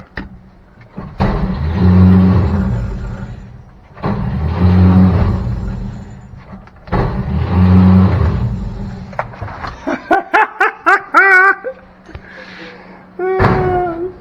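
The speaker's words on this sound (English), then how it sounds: "57-year-old starter spins. But the Bendix isn't kicking out." An old starter motor on a 1957 Chevy left in a field for decades spins in three long whirring bursts without the Bendix engaging, followed by sharp clicks and squeaky metallic chirps, loud and close with a short pause between bursts.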